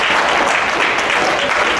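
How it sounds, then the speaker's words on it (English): A stand-up comedy audience breaks into applause, a dense, steady burst of many hands clapping at close range that holds evenly for under two seconds with no voices over it. "Clap if you've been married over 50 years."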